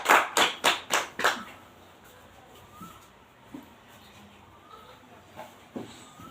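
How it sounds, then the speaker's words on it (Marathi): A few people in an audience at a Christian church gathering clap briefly in welcome, five sharp, close claps at the start, then fading into quiet room ambience with faint scattered sounds. "टाळ्या वाजून आपण त्यांचं स्वागत करू"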